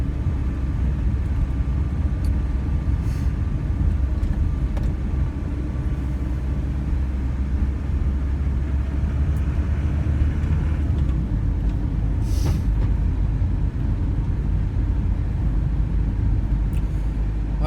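Steady low rumble of a car cabin on the move, with constant road and engine drone filling the whole stretch at an even level and no voices.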